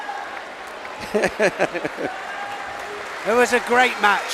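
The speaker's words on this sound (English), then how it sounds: "Now listen to the crowd." A judo crowd at a Grand Slam final in Tel Aviv breaks into applause after a golden score win, clapping rising under a commentator's voice and swelling near the end.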